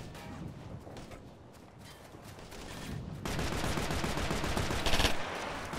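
Sustained gunfire in the Operation Flashpoint: Red River video game, steady rattling shots over a busy battle background that swells louder midway with a sharp burst near the end.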